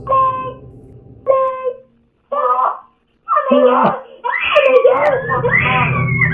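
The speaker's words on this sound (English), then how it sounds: "he heard her screaming for help" A girl screams for help at night in repeated wailing, high-pitched cries separated by short pauses, followed by an agitated voice speaking over more distressed crying.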